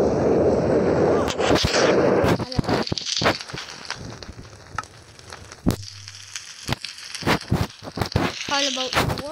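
Rapid bursts of gunfire from weapons in a modded Minecraft game, sharp loud bangs spaced irregularly with a flame gun's roar early on, mixed under excited voices talking.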